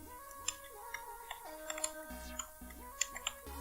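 Quiet typing on a computer keyboard in Microsoft Word 2019, a steady run of soft key clicks with a few sharper taps, heard alone without voices.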